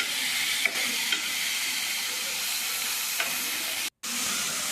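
Drumstick and potato pieces sautéing in hot oil for a village-style egg curry, a continuous bright sizzle and hiss with occasional stirring scrapes and a short break near the end.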